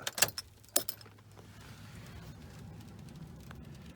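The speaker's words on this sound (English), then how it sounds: "Put the key in the ignition and rotate it 2 clicks, but do not start it." Keys jangle and clink twice in quick succession as a key goes into the ignition of a Dodge Ram and turns, followed by a quiet interior hum.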